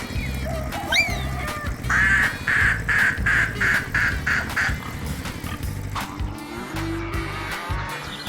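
A farmyard duck gives a run of about seven quick, loud nasal squawks near the start, over steady low farm background noise, with a few other bird calls around it.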